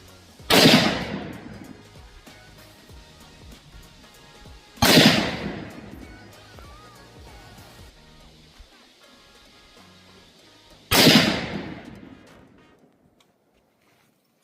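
Three loud, sharp rifle shots fired with Norma Oryx bullets, spaced a few seconds apart, each cracking out and ringing down into a long fading echo over quiet outdoor background.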